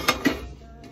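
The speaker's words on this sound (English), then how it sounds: "That much meat requires the Mac Daddy skillet." A large skillet clanks twice on the stovetop with sharp metallic knocks, then a quieter rattle fades into low kitchen background. No one speaks.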